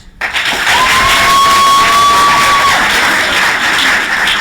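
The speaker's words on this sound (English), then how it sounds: "clap your loudest if you want one of them out" A loud, sustained roar of audience clapping and cheering at an improv comedy show in Seattle, filling the whole clip, with a thin whistle-like tone partway through.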